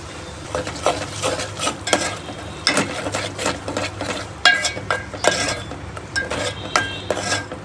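Mixed chavanu, gathiya and peanut bhajiya being stirred into fried spices in a pan while making a guvar and potato curry: repeated scraping and clinking of a spoon against the metal vessel over a light sizzle, close and busy.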